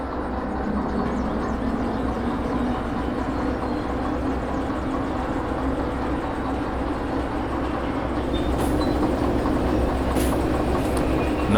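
A locomotive in the train-driving game Derail Valley runs with a constant, loud rumbling drone and steady rolling clatter throughout.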